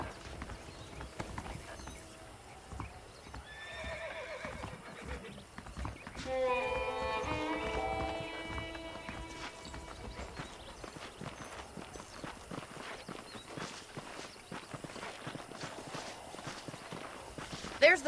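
A horse in the Red Dead Redemption western game, hooves clip-clopping in a steady walking rhythm with a whinny partway through, moderately loud and heard beneath a man's speech.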